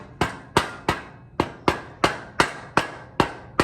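About a dozen sharp, evenly spaced hammer blows ring out close up, tapping old motorcycle fork legs and a triple tree top into place for a mock-up, each strike decaying briefly before the next.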